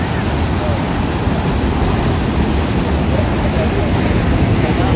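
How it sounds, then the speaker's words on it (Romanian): Ocean waves rolling in on a Bali beach, with a boat out on the water, make a steady, loud wash of surf that fills the whole clip alongside wind noise. "Ce valuri vin."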